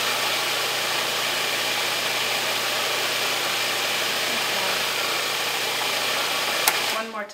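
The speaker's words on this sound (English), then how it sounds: "working with the food processor. There, it's blending around perfectly." A food processor blends an almond cheese mixture with a steady, loud motor whir that continues unbroken, then cuts off abruptly at the end.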